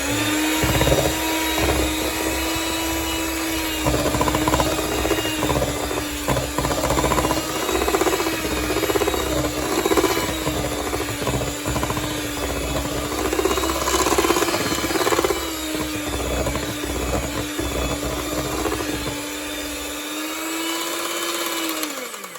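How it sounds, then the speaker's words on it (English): An electric whisk beats cake batter for an orange marmalade cake, a loud, steady motor whine running continuously close up for over twenty seconds, with slight wavering in pitch as the beaters move through the bowl. "now we'll give this a good whisk"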